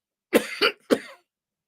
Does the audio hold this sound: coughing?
yes